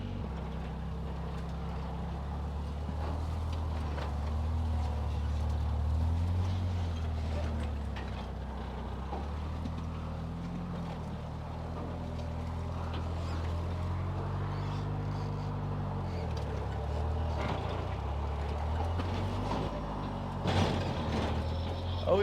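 A cheap, broken Toyota rock crawler grinding over rough terrain, its engine a low, continuous rumble that rises and falls in pitch with throttle, plus occasional knocks and clunks from the drivetrain, no talking.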